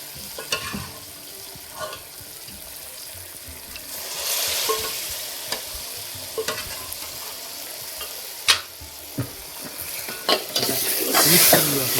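Spoon stirring mutton curry masala in a pan of sizzling oil, soft scraping and clinks over a steady close fry that grows louder midway, no voices.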